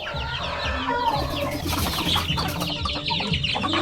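A flock of backyard chickens raised near fighting-cock breeders clucks and calls continuously, close and busy, with overlapping bird chatter throughout.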